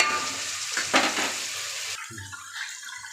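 Onion and tomato sauté in a pan for fish curry, a bright hissing sizzle that drops off partway through and then returns more faintly.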